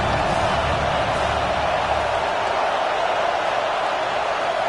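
An Ohio State Buckeyes football stadium crowd roars on a third down, a dense, sustained wall of cheering noise that stays loud and steady throughout.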